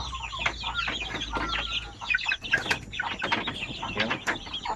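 Zampen native chickens, young purebred birds 45 days to 2 months old, cluck and chatter repeatedly at close range, with brief wing flapping and a low background hum.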